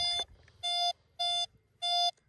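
A Nexus MPV3 analog metal detector with a concentric coil sounding over iron: three loud, steady electronic beeps of about a quarter second each, evenly spaced, after a brief opening tone, with no talk.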